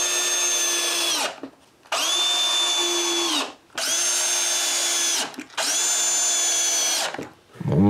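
A power drill drives screws to fix a TV wall mount in place, in four long loud whirring bursts with short pauses between them, alone without any talk.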